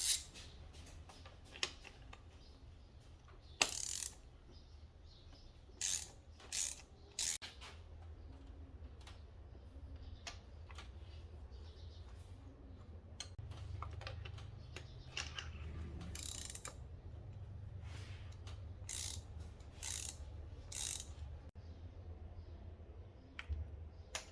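A hand ratchet clicks in short, quick bursts while it turns spark plugs out on a 2010 Audi Q5 3.2L V6 FSI Quattro, close by and crisp, with pauses between strokes over a low background hum.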